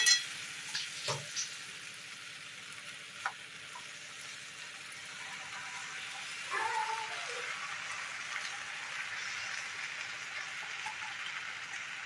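Sauce poured into a bhetki fish paste mixture sizzles steadily in a hot pan, a soft crackling hiss that swells a little as the liquid goes in, with a few brief knocks near the start.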